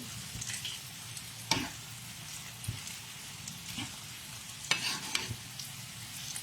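A masala base with tomatoes sizzles and simmers in a pan for paneer pasanda, a soft, steady bubbling hiss with occasional sharper stirring scrapes and pops, close but quiet, without talking.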